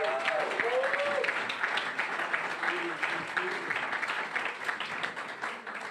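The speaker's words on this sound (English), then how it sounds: "can we please give these incredible athletes a huge round of applause" Sustained applause for IRONMAN World Championship athletes at a post-race press conference in Kona, a steady dense wash of clapping lasting the whole stretch, with a few faint voices and cheers poking through.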